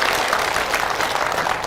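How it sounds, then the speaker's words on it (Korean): An audience at a legislator's community report meeting applauds, a dense, even wash of many hands clapping together at steady volume throughout, with no voices standing out. "여기는 박수 한번 쳐야 됩니다."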